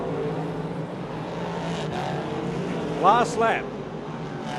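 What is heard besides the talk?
dirt speedway race cars racing on track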